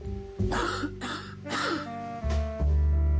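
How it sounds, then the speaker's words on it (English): A character in the video game The Dark Rites of Arkham coughs several times in harsh, close bursts over a low game soundscape. "You coughed up blood."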